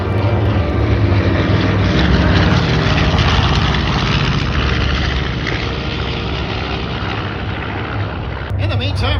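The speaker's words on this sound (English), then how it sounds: "There's a beautiful topside pass by our B-25. This is a J model." A B-25J Mitchell bomber makes a pass at an air show. Its piston engines give a loud, steady rumbling drone that fills the clip, and a voice speaks over it.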